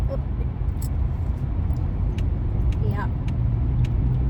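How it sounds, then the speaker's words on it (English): Busy Los Angeles road traffic rumbles steadily from inside a slow-moving car, a constant low hum with faint passing vehicles and a brief brake hiss, while a voice speaks a short word. "That's one thing, LA, the traffic is so bad."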